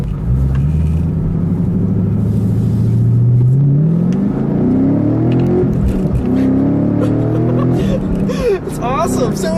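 A Chevrolet Camaro with a 505-horsepower naturally aspirated engine accelerating hard down a straight road. The loud, close engine note climbs steadily in pitch through the pull, with a brief dip before it rises again.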